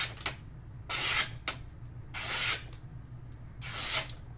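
A knife blade is stropped against fabric shorts to wipe off polishing compound after sharpening, giving three close, brisk rubbing swipes spaced about a second apart, with quiet pauses between.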